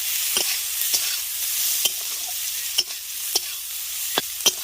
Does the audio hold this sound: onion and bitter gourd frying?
yes